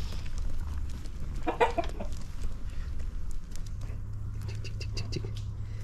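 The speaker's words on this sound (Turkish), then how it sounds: "Şimdi önce tavuklarımızı açalım." Chickens cluck as they are let out of a coop at a country house, several soft clucks and a brief flurry of fowl calls near and moderately loud over steady background noise and scattered pattering.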